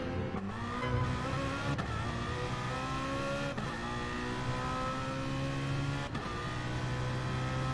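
Race car engine in Gran Turismo Sport lapping Monza, a steady loud harmonic whine rising and falling through gear changes, with brief shift dips roughly every two to three seconds.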